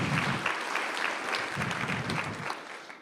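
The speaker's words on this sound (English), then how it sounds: "I think that's worthy of another round of applause." Audience applause at a school board of education meeting fills the room with a steady, dense wash of many hands clapping, sustained throughout at moderate distance with no one speaking over it.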